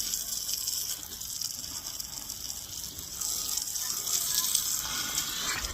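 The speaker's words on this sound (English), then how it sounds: "this is kind of like showed you how the water flow is on your roof" Water from a hose running over a concrete tile roof, a steady hissing splash that carries on continuously, close and moderate in level with no talk.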